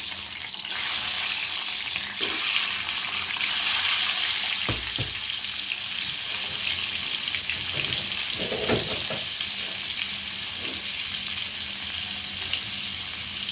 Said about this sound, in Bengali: উল্টে পাল্টে ভেজে নেব